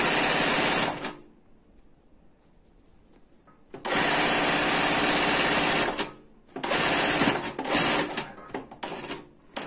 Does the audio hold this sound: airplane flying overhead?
no